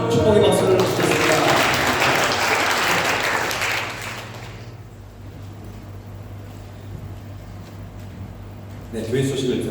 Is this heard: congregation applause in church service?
yes